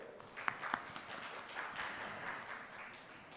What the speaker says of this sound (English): join me with a loud round of applause, Dr. Umakant Varotil.